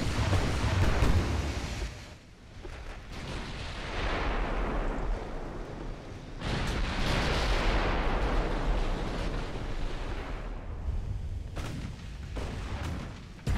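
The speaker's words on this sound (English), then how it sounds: "The HE seems to cause a lot of damage with the explosions." High-explosive shells from 15-inch naval guns burst in a naval combat video game, several loud booming blasts that rumble out, with a brief lull between the heavy bursts.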